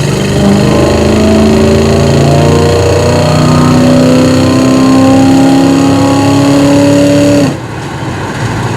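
A restored 1972 Chevrolet C10 pickup truck accelerates at three-quarter throttle, its engine note climbing steadily and loudly for several seconds before the throttle lifts and the sound drops to a lower cruising hum.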